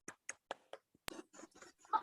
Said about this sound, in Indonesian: Bagus semua, tepuk tangan dulu.